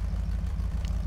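Truck engine idling in the Mud Runner mobile game: a steady, continuous low rumble with no voices.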